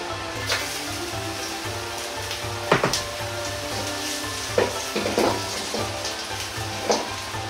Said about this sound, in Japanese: 生姜を入れ炒めます。